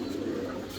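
Red American Helmet pigeon giving a brief, low continuous coo, steady and close, with no speech over it.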